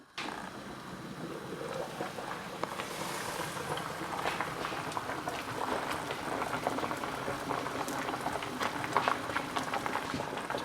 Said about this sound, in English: Just let that boil for a little bit,